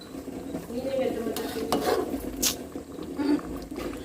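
Soft scraping and clinking of a spoon stirring chicken curry in a pot, quiet and close, with a few brief metallic knocks.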